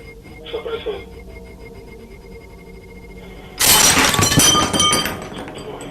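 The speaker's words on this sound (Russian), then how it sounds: "ты разбил стакан?" A drinking glass shatters during a paranormal ghost-hunting session: after a few seconds of quiet room tone and a faint voice, a sudden loud, sharp crash bursts out and rings on briefly before fading.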